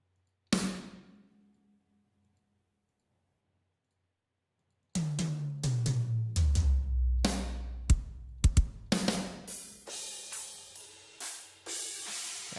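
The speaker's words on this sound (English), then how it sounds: "That was the sound of the drums." Drum kit sounds played back in music software: one isolated hit that decays, a pause, then a run of kicks, snare-like hits and cymbal crashes in an irregular sequence, moderately loud with no talking.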